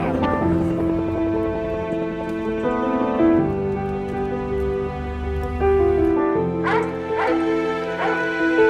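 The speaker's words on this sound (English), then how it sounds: "Rescue dogs on the scene right now." Rescue dogs at a collapsed building yip, whimper and bark in news footage, with excited cries and short yelps rising over a continuous noisy background throughout.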